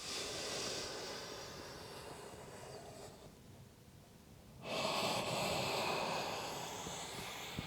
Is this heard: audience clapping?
no